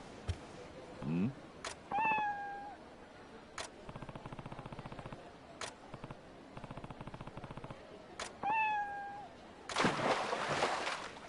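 A cat in Like a Dragon: Ishin gives a couple of clear rising-falling meows, set among sharp in-game clicks, rapid rattling bursts and a loud noisy burst near the end.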